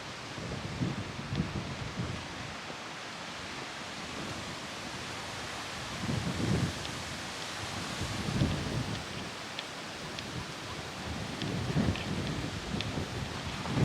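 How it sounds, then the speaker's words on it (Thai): Strong wind gusting over a clifftop campsite, a steady broadband roar with swelling gusts that rise and fall throughout, close and fairly loud with no talking. "แต่ลมค่อนข้างแรงนะครับท่านผู้ชมลมแรงจริง"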